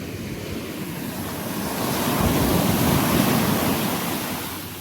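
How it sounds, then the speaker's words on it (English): Ocean waves roll in to shore, a broad continuous wash of surf that swells louder midway and then eases, with no voices. "as I'm sitting here looking at these waves"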